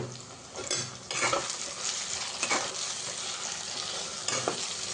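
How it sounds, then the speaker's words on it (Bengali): Chopped tomatoes sizzle in a frying pan as a spoon scrapes and stirs through them. Steady frying hiss sits under irregular stirring strokes, close up, with no talk. "এবার আমি কেটে রাখা টমেটোটা দিয়ে দেবো"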